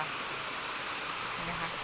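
Small waterfall at Thararak, a continuous, even rush of falling water that fills the scene without pause.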